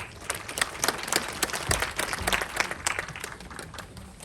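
Audience applause welcoming the Ulsan regional labor office head at an employment and labor policy briefing, a moderate patter of clapping hands from a seated hall, steady across the moment with no talk over it.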